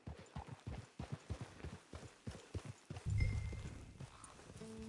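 Horse hooves clip-clop in a steady walking rhythm in Red Dead Redemption 2 Online, close and clear, with a brief heavier low rumble near the end and no talking.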